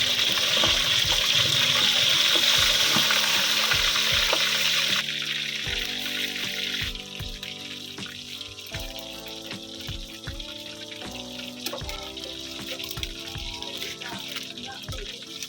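Battered chicken liver pieces coated in flour sizzle and crackle steadily in hot oil, a loud continuous fry with scattered pops, easing somewhat partway through.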